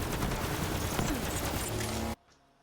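Rapid shock/corrosive gunfire from a switchable-element gun in the video game Borderlands 3, a loud continuous burst of automatic shots lasting about two seconds before cutting off sharply into near silence.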